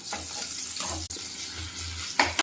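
Onions, cinnamon and cumin sizzle in oil in a pot for a vegetable biryani base. The crackle is constant and close, broken by a few stirring scrapes and no speech.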